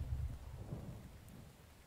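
Steady rain in the video game The Infected, a soft continuous hiss with a low rumble underneath, faint and even throughout with no talking.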